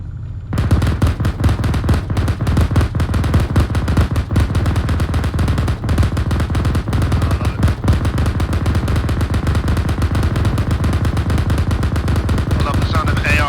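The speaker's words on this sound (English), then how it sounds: "I love the sound of AR fire in the evening." Assault rifle fire in the military shooter game Arma 3 during an ambush, with dense, rapid bursts of automatic gunfire crackling continuously and loudly, overlapping shots and snaps filling the whole stretch.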